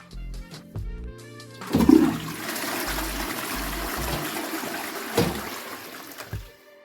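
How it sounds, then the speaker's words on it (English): A household toilet, just cleaned with hydrogen peroxide, flushes nearby: a few low knocks, then a loud rushing gush of water that swirls steadily for several seconds and gradually drains away with a gurgle. "I'm going to go ahead and flush the toilet."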